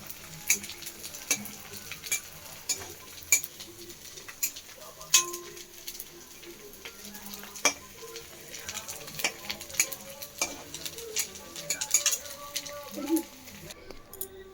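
Papad frying in hot oil and stirred with a metal spatula: a steady close sizzle under repeated scraping and clinking strokes of the spatula against the pan, with faint birdsong in the background.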